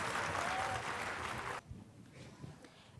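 A crowd of parents claps loudly and continuously at a kids' annual day celebration, the applause filling the hall for about a second and a half before breaking off into quieter room noise.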